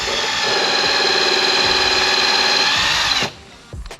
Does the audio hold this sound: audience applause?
no